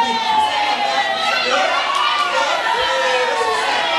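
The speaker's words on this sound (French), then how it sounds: "Acclamons pour eux." A large gathering of young people at a church youth event cheers and shouts together, a dense and steady wall of voices with children's cries mixed in, loud and close throughout.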